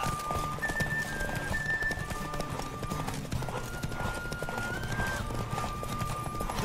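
Hooves clip-clop steadily as a horse gallops in The Witcher 3: Wild Hunt, with brief whinnies and a faint tonal hum layered over the continuous rhythmic pounding.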